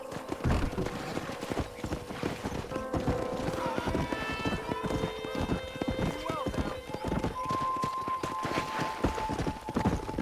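Horses in Red Dead Redemption run with loud, continuous clip-clop hoofbeats and occasional whinnies, alongside game music tones and voices talking over them.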